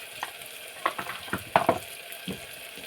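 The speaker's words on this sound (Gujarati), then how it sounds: "હવે આપણે સરસ રીતે હલાવી લેશું તેને" Potato rice with turmeric and red chili powder being stirred in a pan, with a series of scraping, clattering stirs over a soft sizzle, close and fairly loud with no talking.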